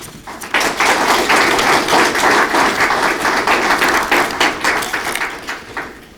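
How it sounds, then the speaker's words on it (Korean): Audience applause fills a Korean award ceremony hall, loud and dense with steady clapping from the start to the end, easing slightly in the final second. "힘찬 응원의 박수를 보냅니다"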